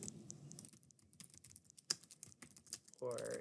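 Quiet typing on a computer keyboard, a rapid irregular patter of soft key clicks, close and faint, with a brief louder tap partway through and a voice starting near the end.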